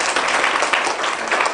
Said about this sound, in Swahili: Wanafunzi, makofi jamani.